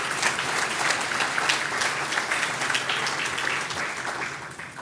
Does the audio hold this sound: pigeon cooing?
no